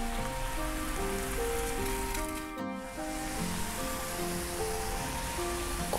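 Steady rain falls on a street in the old Japanese-style residential quarter of Nanshan, Dalian, a continuous close hiss that runs for the whole stretch, with sustained tonal music layered over it and a brief dip near the middle.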